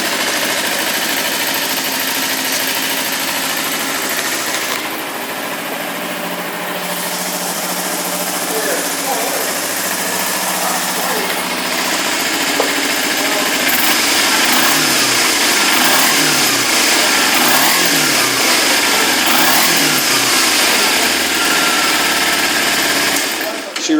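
A 2009 Kawasaki Ninja EX250R twin-cylinder motorcycle starts and settles into a steady idle, a close, continuous buzzing engine note that grows slightly louder and rougher, with occasional pulsing revs toward the end.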